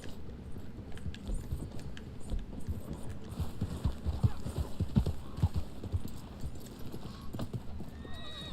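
Rhythmic clip-clop of horse hooves trotting steadily in the video game Red Dead Online, with a brief whinny and a low ambient hum beneath, no talking.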